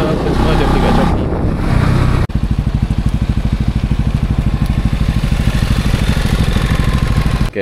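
A Honda motorcycle bought only a week ago runs close by. A blurred noise burst comes first, then a steady, loud, rapidly pulsing engine rhythm holds without pause until the end.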